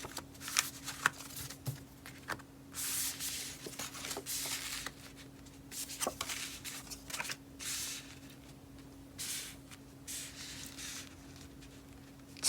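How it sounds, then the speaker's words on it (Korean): Tarot cards are shuffled and drawn in soft, close bursts of papery rustling and flicking, with quiet pauses between and no talking. "세 장 뽑겠습니다"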